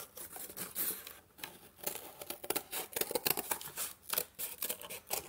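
Scissors snipping around a shape, likely paper or card, for homemade finger cymbals, giving a rapid uneven run of crisp close cuts with light rustling between them.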